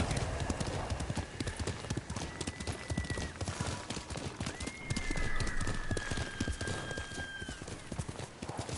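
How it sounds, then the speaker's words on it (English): Rhythmic hoofbeats clip-clop steadily at a gallop while a horse whinnies twice in the video game Ghost of Tsushima, over a constant noisy backdrop with occasional voices. "Good horse."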